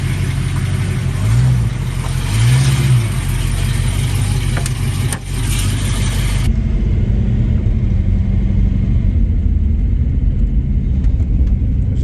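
A 1974 Hornet wagon, grille removed and fitted with a new camshaft, drives along with a steady low engine rumble and drone. An audible shift partway through leaves a fainter, continuous cabin-heard engine hum with no talk.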